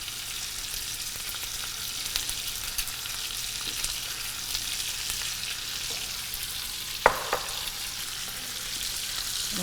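Peppers and other vegetables sautéing in a pan, a steady, moderately loud sizzle throughout with one sharp clack of a utensil near the end, no talking.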